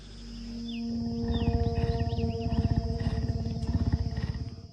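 A desert lion roars, a deep, rhythmic series of grunting pulses that swells in loudness and then fades. A faint steady tone hangs in the background.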